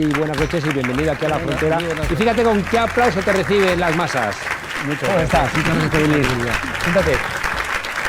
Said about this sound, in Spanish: fíjate con qué aplauso te reciben las masas